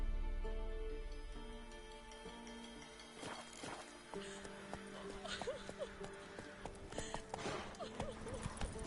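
Roach, a horse in The Witcher 3 game, runs with quick rhythmic hoofbeats that start after a few seconds and keep a steady clip-clop over game music, at moderate loudness.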